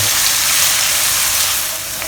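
Shallot and chili paste frying in a pan over medium or low heat, a loud, dense, steady hiss of sizzling oil that holds evenly throughout and eases slightly at the end, close up and without voices.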